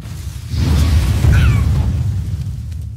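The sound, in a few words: missile explosion in a pet battle, video game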